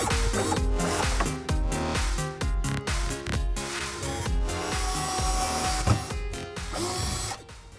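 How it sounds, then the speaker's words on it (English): Pilot holes are drilled into a fiberglass boat floor at the helm, giving dense, gritty, continuous grinding with rapid rhythmic ratcheting pulses throughout, loud and close with no voices. "By drilling the pilot holes before I put the screws in, that prevents me from cracking the fiberglass"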